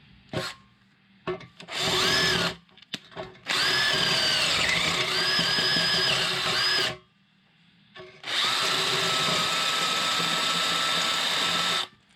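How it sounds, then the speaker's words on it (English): A power drill whirs in several bursts, running a bit into a bolt hole on a Harley motorcycle exhaust, revving up and cutting off with short pauses between, close by and loud. "So I'll run the drill bit down there, just clean it up a little bit"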